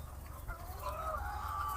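Laying hens clucking in a poultry farm, a soft steady murmur of several birds throughout, with a clearer nearby cluck swelling toward the end.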